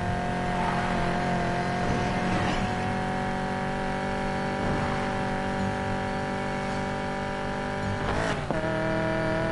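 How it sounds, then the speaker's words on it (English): Several race car engines rev and drone steadily before a drifting race, a dense layered roar held at a constant level, with a brief sharper rev rising near the end. "Better hurry, engines are revving."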